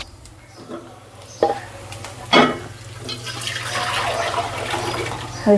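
Fish are washed under running tap water. A few clanks and splashes come first, then a steady rushing stream of water builds and carries on close by.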